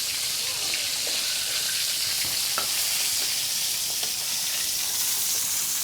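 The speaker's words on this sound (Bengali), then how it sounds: "হলুদ লবণ মাখিয়ে রাখা মাছগুলো আস্তে আস্তে দিয়ে দিলাম।" Fish pieces rubbed with turmeric and salt fry in hot oil, a dense continuous crackling sizzle with occasional light clicks from the pan, close and steady.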